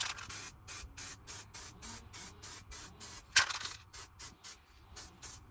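Spray rattle cans coat a Harley Benton DIY guitar kit body in primer, sounding as a steady series of hissing bursts, each about a third of a second, with a sharper clatter partway through.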